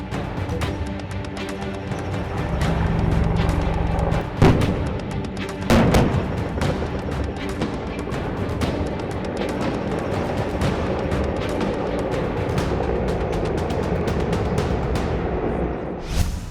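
Artillery and gunfire ring out across the Mahajan Field Firing Range in Rajasthan during an India-US joint military exercise, with a steady roar punctuated by sharp, loud blasts and rapid crackling shots building toward the end.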